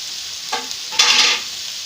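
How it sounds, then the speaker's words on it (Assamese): Tomatoes dropped into a hot pan for a vegetable curry, two short bursts of sizzling and frying as they hit the oil and get stirred, close and fairly loud with no talk. "এতিয়া মই বিলাহীখিনি দি দিম ইয়াত।"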